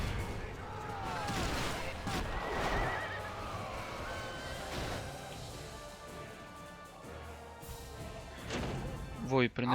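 Cavalry horses in the Medieval II Total War video game, neighing and whinnying several times over battle noise with crashes and hoof clatter, while someone talks throughout.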